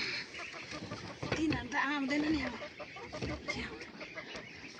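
Ducks quack and honk in a barnyard, a short burst of calls rising over steady background murmur with a person speaking nearby.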